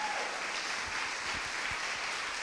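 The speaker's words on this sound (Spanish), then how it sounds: "Alguien dele un aplauso al Señor." A church congregation at a Thursday service breaks into applause, a dense, sustained wash of many hands clapping at once, fairly loud and filling the room.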